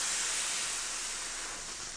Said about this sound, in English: Now when I pull the trigger on there, you can see the steam coming out.